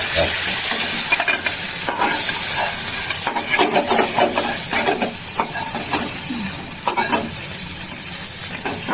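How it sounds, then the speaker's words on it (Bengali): Shrimp frying in oil in a pan for a Chinese-style dish, a steady broadband sizzle with stirring scrapes and crackles throughout, loud and close, with no talking. "চিংড়ি মাছটা বেশি ভাজা যায় না তুলে নিচ্ছি"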